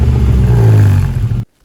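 A Ford Capri 2.8 Injection, heard from behind the car, gives one short, loud, deep rev of its engine that swells and then cuts off abruptly into silence.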